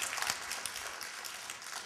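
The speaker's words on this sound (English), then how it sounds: "I clap for that too." Scattered audience applause at a town hall meeting, a dense patter of claps sustained at moderate loudness throughout, with no talk over it.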